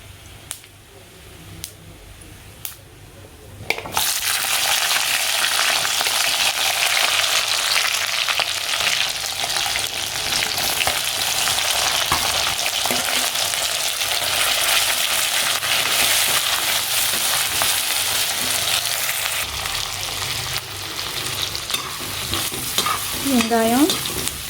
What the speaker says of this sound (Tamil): அடுத்தது நம்ம நசுக்கி வச்சுருக்க வெங்காயம், பூண்டு, கருவேப்பிலை இது எல்லாத்தையும் இதில் சேர்த்து வதக்கி விடலாம்.